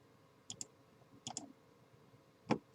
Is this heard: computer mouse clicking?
yes